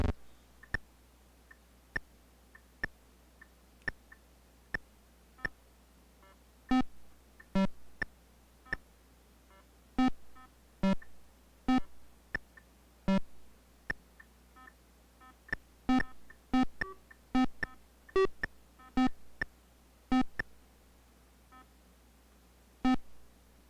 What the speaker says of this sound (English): And you should hear the beeps and everything.